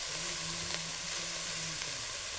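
Drumstick flower vegetable sautéing in a pan gives a faint, continuous sizzle with light stirring and scraping sounds, with no voices present.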